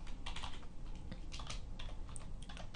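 Quick, close clicking keystrokes on a computer keyboard in an irregular burst of typing, fairly quiet with no talk.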